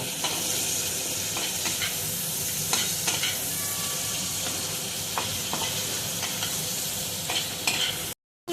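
Shrimp and vegetables sizzle steadily in a hot pan while a utensil stirs and scrapes through them, close and continuous, ending in a brief cut to silence.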